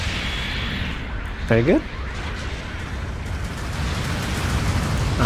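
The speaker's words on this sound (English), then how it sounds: "Oh, my second takedown with cannons." Cannon fire from a mobile suit in Gundam Battle Operation 2 thuds through a dense, continuous din of battle noise, with a voice speaking briefly over it.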